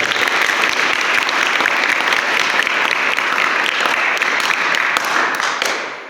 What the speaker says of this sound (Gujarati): એટલે જોરદાર તાળીઓથી વધારે.